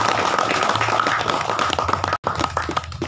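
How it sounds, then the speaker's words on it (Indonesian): A crowd of colleagues clapping at a camping gathering, producing a dense, steady patter of applause for about two seconds, a brief break, then the clapping resumes at moderate loudness. "Tepuk tangan dulu buat teman-teman."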